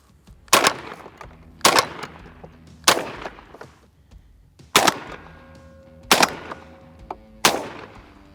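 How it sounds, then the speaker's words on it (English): A Browning A5 shotgun fires from the shoulder outdoors. Six loud, sharp blasts come about a second or more apart, each followed by a short ringing tail. "Joel's gonna go first with the A5, 3 shots from the shoulder"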